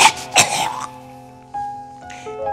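A close, loud cough and throat clearing, two harsh bursts followed by quieter rasping, heard alone with a faint background tone.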